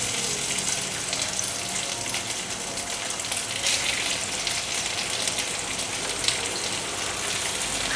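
King oyster mushrooms and gluten sausage frying in about two tablespoons of oil in a wok, a steady bright hiss and crackle running continuously throughout with no talking.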